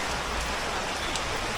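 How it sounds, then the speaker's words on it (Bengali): Steady, close rain pouring down on the surface of farmland, an even wash of falling drops with no voices. "আমরা বৃষ্টির মধ্যে আটকে গেলাম।"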